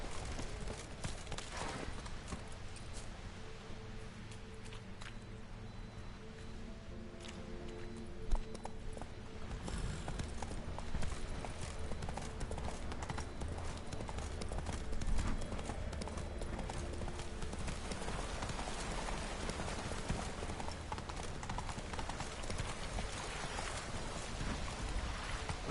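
Hoofbeats from Roach, the horse in The Witcher 3, galloping in a steady, rapid rhythm for a long stretch under game music and ambience, with a couple of brief thumps along the way.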